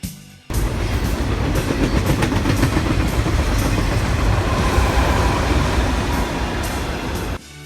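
Rail cars roll steadily past on the tracks in a loud, continuous rumble with faint clickety-clack. The sound begins abruptly and holds for about seven seconds.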